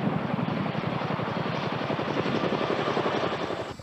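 US Army CH-47 Chinook tandem-rotor heavy-lift helicopter: a loud, steady, rapidly pulsing rotor thump over a dense engine roar, continuous throughout and close, with no voices.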